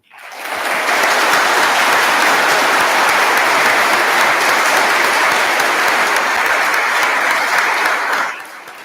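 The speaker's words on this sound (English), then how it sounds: "Please join me in applauding them." Sustained audience applause for teachers and support staff at a school honors assembly, loud and dense, swelling in quickly and holding steady for several seconds before cutting off.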